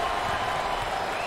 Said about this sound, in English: That's a great response by this crowd.